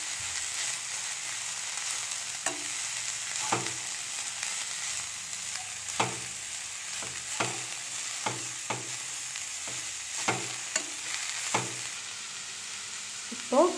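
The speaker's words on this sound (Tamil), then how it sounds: "இதையும் ஆயிலில் நல்லா மிக்ஸ் பண்ணி ஃப்ரை பண்ணிக்கோங்க." Cabbage and carrot frying in oil for a hotel-style poriyal, a steady hissing sizzle with regular spoon scrapes and knocks against the pan, close and even throughout.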